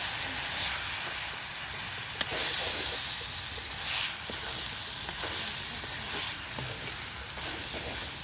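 Spinach puttu is stirred in a hot pan, making a soft, steady sizzle and hiss with occasional light scraping clicks from the utensil, heard close and without talk.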